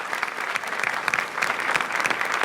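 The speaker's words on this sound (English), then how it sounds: "Please welcome with a warm applause" An audience applauds warmly to welcome a musician to the stage, a dense, steady clapping from many hands filling the room without a break.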